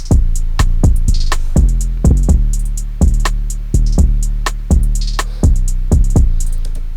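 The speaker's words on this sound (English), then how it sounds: "if you listen to all the drums and the bass together" Trap beat with punchy kicks, booming 808 bass and crisp hi-hats, looping in a steady bouncing pattern, loud and dense with no voices.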